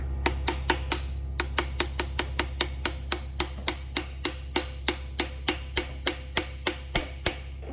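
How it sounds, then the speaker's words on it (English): Steady, evenly spaced metallic taps of a hammer striking a drift on a blown car differential, about three per second, sharp and close, with no talking. "let me get a hammer and drift and see if I can't motivate that a little bit"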